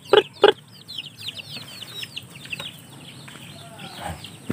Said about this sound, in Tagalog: Ito mga maliliit na manok.